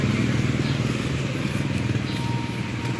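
A street in San Roque, Marikina, carries the steady rumble of passing motorized tricycles, their engines puttering nearby with a light clatter and faint talk on top.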